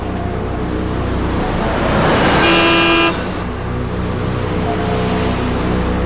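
Trucks roar past on the NH 27 highway between Lucknow and Faizabad at night, loud continuous road rumble with a long sustained horn blast near the middle.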